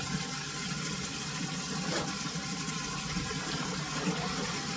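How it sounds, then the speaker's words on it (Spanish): Heavy rain falls steadily, a dense, even hiss and patter that holds without pause throughout, with no voices. "está cayendo bastante agua."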